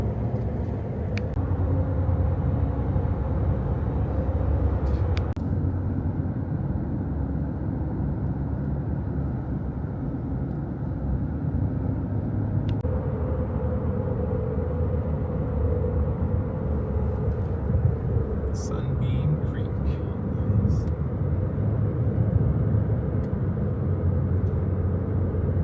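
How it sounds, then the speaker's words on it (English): A steady low road rumble fills the interior of a moving car, with continuous tire and engine drone and a few brief clicks and shifts in tone. "we're gonna keep driving and see where we land."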